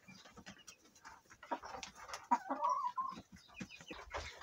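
Adult hens and young chicks in a shed, moving down a small ladder, give a steady close chorus of clucks and chirps with irregular bursts of scratching and bumping throughout.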